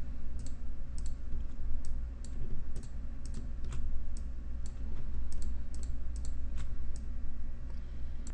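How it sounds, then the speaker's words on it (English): A faint run of light, evenly spaced clicks from computer keyboard keys and a mouse sits over a steady low hum, going on at a soft level throughout. "pressing and holding down the control key as you click"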